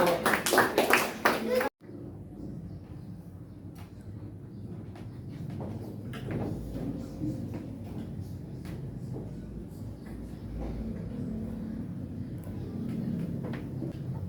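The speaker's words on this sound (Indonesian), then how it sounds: "Beri tepuk tangan buat teman-teman kita yang sudah maju." A classroom of students claps for classmates who have just presented, a loud, dense burst lasting under two seconds before it cuts off, leaving a quiet room with faint murmuring and small movements.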